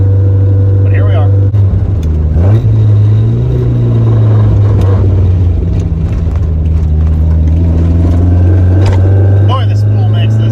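A Te51 Corolla with a spool differential driving along, its steady low engine drone and road rumble loud and constant throughout, with faint clunks and a brief rising engine swell early on.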